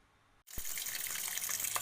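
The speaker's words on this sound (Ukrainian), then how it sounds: "грибочки значно зменшилися в розмірах, вони уварилися, і юшки стало дуже багато, тому я зараз буду зливати юшку" Liquid from cooked marinated champignon mushrooms is poured off through a sieve, a sudden steady splashing stream that starts after a short quiet moment and runs on close and continuous.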